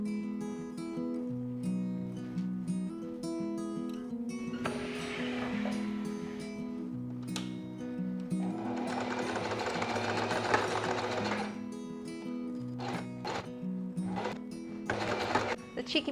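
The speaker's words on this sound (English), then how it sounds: "and I'm going to be sewing along the shoulders." A sewing machine stitches front and back bodice pieces together along the shoulders for a babydoll dress, a steady close mechanical whirring that runs continuously with slight speed changes and occasional clicks.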